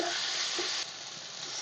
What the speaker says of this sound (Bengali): সমস্ত মশলাটা আমি ভালোভাবে প্রথমে কষিয়ে নেব।